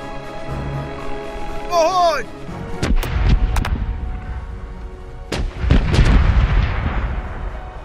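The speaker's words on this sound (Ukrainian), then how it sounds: "Гармати на правому борту до бою готові!" Heavy ship's cannon broadside blasts from a pirate video game boom in quick succession, deep rumbling explosions echoing out, preceded by a brief shouted voice; the barrage repeats in two bursts.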